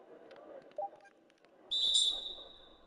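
A referee's whistle blows for a foul in the NBA 2K21 basketball video game, a single shrill, bright blast lasting about half a second, standing out above a quiet background of faint crowd and court noise.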